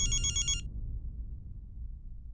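A phone ringtone for an incoming video call sounds briefly in bright repeating tones, then cuts off, leaving a low background hum with no talking.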